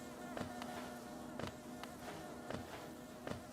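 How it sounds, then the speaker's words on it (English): Steady buzzing of bees in the Hollow Knight video game, a continuous low drone with repeated short sharp hits about once a second, fairly faint, with no talking. "Dodge those bees."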